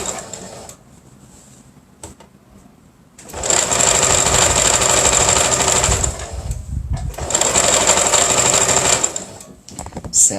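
A sewing machine stitches a wallet-style ecobag in two loud, steady bursts of fast whirring, each a few seconds long, separated by quieter pauses of low mechanical noise.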